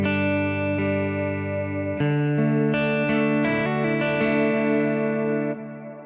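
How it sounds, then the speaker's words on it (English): An electric guitar plays sustained arpeggiated notes through a Strymon BigSky hall reverb, chords ringing out and blending into a wide, lingering wash that fades at the end. "if I'm on a hall reverb like this"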